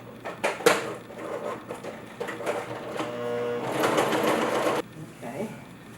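A sewing machine runs along the seams of a fabric yoga bolster, with a few clicks at first and then a steady whirring stretch of stitching before it stops, heard up close.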